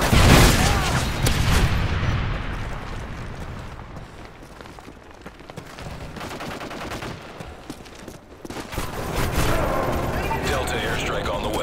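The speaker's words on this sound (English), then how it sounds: "Friendly Predator missile inbound." Loud, continuous combat in Modern Warfare 3, with heavy gunfire bursts, rumbling blasts and explosions from a Predator missile and airstrike, under game voice callouts.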